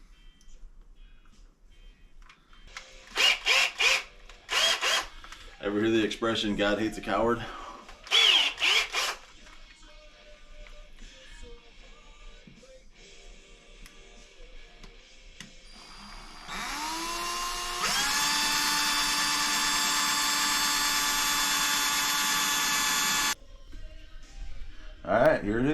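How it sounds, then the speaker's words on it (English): A power drill bores holes in the top of a plastic canopy, with short bursts early and then a long steady high whine, close by, while someone talks between and before the drilling. "drilling holes in the top of this canopy"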